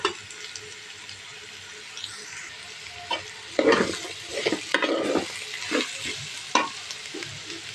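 Potatoes tipped into a pan of frying vegetable fried rice, a soft steady sizzle broken by several sharp clattering stirs and scrapes, close and fairly quiet, with no talking.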